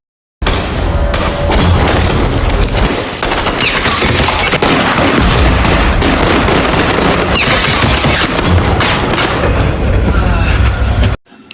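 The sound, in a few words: film explosion and sniper gunfire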